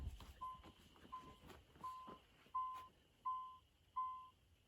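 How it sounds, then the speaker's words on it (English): Electronic warning beeps from a 1993 Chevy Lumina APV, repeating about once every 0.7 seconds as a steady series of short tones over quiet background noise, with no talking. "Why is it beeping?"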